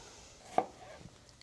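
A single sharp knife chop through food on a cutting board, one crisp close thud followed by a few faint softer taps in a quiet kitchen.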